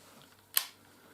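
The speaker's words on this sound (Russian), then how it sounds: "Поднимаем затвор." Bolt of a Los 7-1 hunting carbine lifted, giving one sharp metallic click, close and alone against a quiet background.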